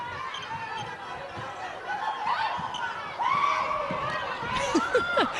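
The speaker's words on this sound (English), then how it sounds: "Can hear the crowd screaming or squeaking, one of the two." Crowd at a Scotland versus Fiji netball match, with high squeals and shrieks rising over a busy arena murmur, interleaved with sharp shoe squeaks and ball bounces on court, fairly distant.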